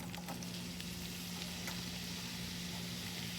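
Bay leaves and dried chillies fry in oil that is not yet fully hot, giving a soft, steady sizzle with faint crackles throughout.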